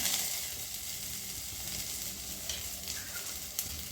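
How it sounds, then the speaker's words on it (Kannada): Okra added to heated oil and frying steadily, a dense close sizzle with light stirring scrapes running throughout at an even level, no voices. "ಇವಾಗ ಎಣ್ಣೆ ಕಾದಿದೆ ಬೆಂಡೆಕಾಯಿನ ಹಾಕೋತಾ ಇದ್ದೀನಿ"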